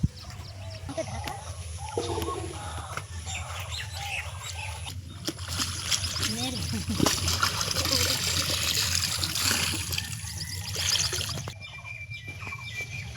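Clothes being washed by hand in open water, likely a pond, with steady trickling and splashing sounds, mixed with nearby chickens and birds outdoors.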